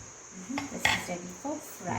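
Metal fork pressing and tapping along the edges of a raw chicken patty to seal it, a few soft scraping clicks against a plate, close and quiet.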